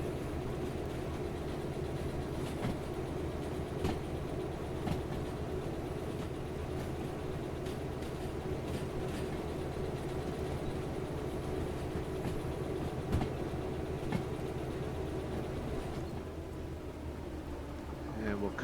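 A locomotive in the Derail Valley train simulator pushes uphill on rails under added throttle, with a steady low engine drone and rumble throughout that fades slightly near the end.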